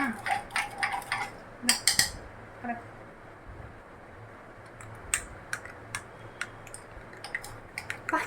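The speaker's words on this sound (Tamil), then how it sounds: "இனிமேல் நம்ம கலக்கிறது மட்டும் மிச்சம் தான்" A spoon stirs a glass of cold coffee, making light, irregular clinks and taps against the glass, with occasional voices nearby.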